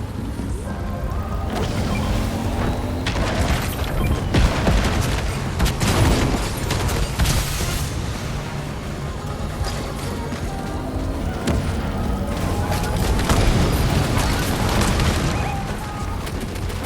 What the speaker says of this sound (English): Oh my god, I'm being shot at.